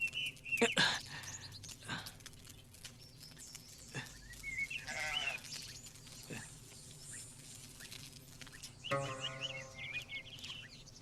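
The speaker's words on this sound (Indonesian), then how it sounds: "Seekor domba kecil terbaik." A small lamb bleats several times, with sharp high cries near the start and a few more spaced bleats later, close and fairly clear over a soft outdoor background.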